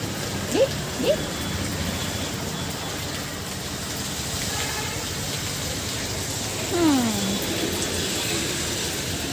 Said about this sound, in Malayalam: കിടന്ന് മഴയൊക്കെ പെയ്യുന്നതും ഒക്കെ കണ്ടോണ്ടിരിക്കുക